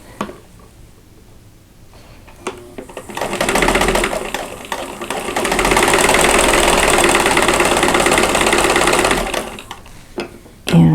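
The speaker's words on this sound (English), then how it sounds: "My diagonal line is going from side to side, and I'm going to sew on that line." A sewing machine stitches quilt fabric along a diagonal line for a chain link quilt block, running in a steady rapid mechanical whir for several seconds after a slow start, then stopping, close and loud.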